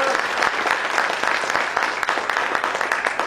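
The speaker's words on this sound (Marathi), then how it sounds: "वराळे साहेबांसाठी, ताईसाठी एकदा जोरात टाळ्या वाजवा." A crowd at a Buddhist Dhamma gathering in Dehu Road claps loudly and steadily, dense applause filling the room with no voices over it.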